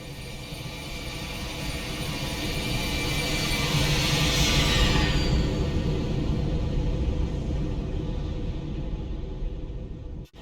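Boeing 737-800 jet engines at takeoff in the X-Plane 12 flight simulator, a broad, sustained engine roar and rumble swelling toward the middle and holding steady for about ten seconds before cutting off, with no voices.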